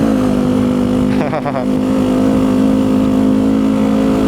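Motorcycle engine strains while climbing a steep uphill road, a loud, steady close-up drone with a brief rise in pitch, heard under talking.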